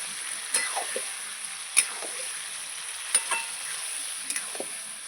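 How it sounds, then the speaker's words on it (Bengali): Mutton being stir-fried in a pan, a soft steady sizzle punctuated by several sharp spatula scrapes and clinks against the pan, close and fairly quiet with no talk. "এবার মাংসটাকে আমি ভালো করে কষাতে থাকবো"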